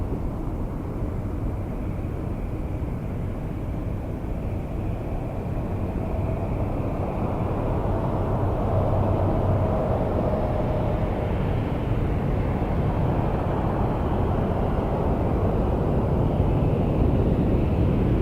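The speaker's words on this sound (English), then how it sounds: "Nice long takeoff roll here. 7879 Dreamliner to Las Vegas." A Boeing 787-9 Dreamliner bound for Las Vegas rolls down the runway at Toronto Pearson, its engines a broad, steady roar that holds loud and constant, heard from a distance.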